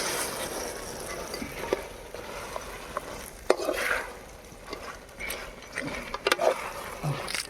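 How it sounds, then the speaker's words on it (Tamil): Fried chicken Manchurian is stirred in a pan over a village-style fire, with soft scraping and light sizzling broken by sharp clinks of the utensil against metal. "அப்படியே ஒரு கிண்டிக்கணும்."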